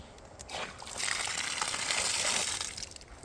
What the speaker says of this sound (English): Oh yeah, water.